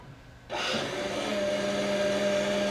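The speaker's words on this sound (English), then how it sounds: "are you playing with the blender again?" A blender motor switches on abruptly and runs steadily with a loud, whirring drone that holds at a constant pitch.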